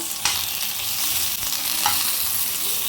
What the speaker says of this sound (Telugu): టమాటాలు తొందరగా వేగాలంటే కొంచెము సాల్ట్ వేసుకోవాలి అప్పుడే జస్ట్ ఒక్క నిమిషంలో మొత్తం వేగిపోతాయి ఒకసారి ఫ్రై చేయండి